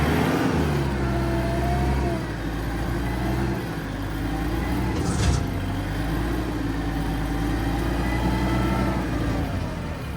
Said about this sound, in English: I start it up and it runs for a moment, but as soon as I put a load on it, it just dies